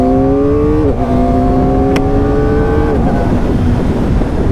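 Kawasaki Ninja ZX-4RR motorcycle engine revving while riding, a loud, close high-pitched inline-four whine rising steadily, stepping down at two gear shifts and then easing off under wind rush.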